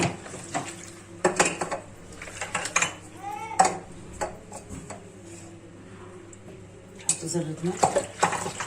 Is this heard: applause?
no